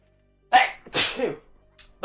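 One big human sneeze bursts out loudly, with a short intake before it, followed by a faint trailing breath and brief vocal sounds.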